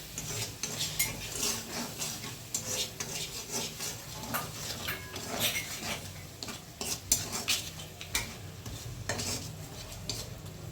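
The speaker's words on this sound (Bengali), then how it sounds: "এবার আমি এটা নেড়ে মিক্স করে নেব" A spoon stirs and mixes spices with salt and sugar in a pan for vegetarian aloo dum, giving repeated scraping clinks over a low sizzle, close and fairly busy, with no talk.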